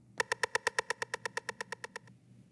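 Sampled drum kit hits run as a fast, even pattern of about sixteen sharp, bright clicks, each one short and close, stopping abruptly after two seconds.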